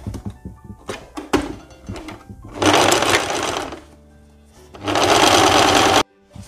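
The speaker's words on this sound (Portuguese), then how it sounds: "Depois que você fez esse corte que acertou, você vira aqui, ó, e bate uma costura aqui por cima." A sewing machine stitches a seam on a women's blouse, running in two loud sustained bursts after a few short clunks and knocks, close and clear with no talking.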